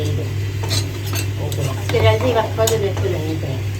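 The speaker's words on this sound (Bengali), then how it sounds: "ডাইলে বাগার বসিয়ে দিচ্ছি" Tempering spices, cumin among them, sizzle as they are poured into mango dal for chicken biryani, with stirring and spoon-on-pot clinks over a steady low hum and brief background voices.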